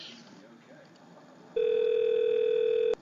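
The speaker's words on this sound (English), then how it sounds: "So now it's dialing again" A steady telephone dial tone starts abruptly over faint background noise, holds for over a second, then cuts off with a click.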